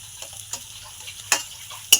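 Garlic paste hitting onions frying in oil, with a low hum underneath, faint sizzle, and a few sharp spatula taps and clinks against the pan, two of them louder near the end.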